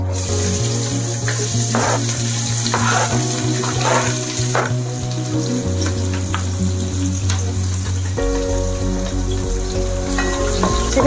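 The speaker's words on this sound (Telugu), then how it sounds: "ఎర్రగా వేయిపోవాలండి పచ్చిమిర్చి ఆనియన్ బిర్యానీకి వేగినట్టు రెడ్ కలర్ బ్రౌన్ కలర్ రావాలి" Onions and green chillies fry loudly in hot oil with whole spices for prawn pulao, a steady close sizzle with occasional stirring clinks throughout.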